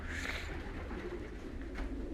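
Older racing pigeons coo softly in a loft, a faint, steady low murmuring under a constant background hiss.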